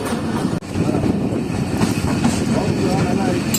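A Jand Passenger train rolls slowly across a bridge, a continuous close rumble of wheels and carriages with a brief dip early on, and a voice talks over it.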